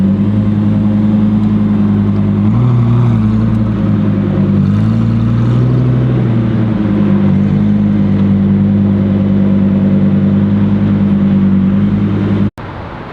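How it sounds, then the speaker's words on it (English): A 2022 Lamborghini Huracan EVO all-wheel drive with an Akrapovic exhaust idles loud and close, its deep steady drone swelling in brief revs before cutting off abruptly near the end. "This is the all-new 2022 Huracan EVO all-wheel drive with the Akrapovic exhaust."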